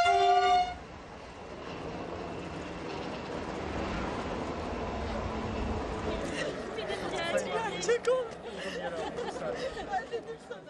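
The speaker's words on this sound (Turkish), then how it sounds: "Tren geçti, onlar seyretti." A high-speed train in Sakarya, Turkey rumbles past with a broad, steady roar after a brief horn blast at the start, while crowd chatter rises near the end.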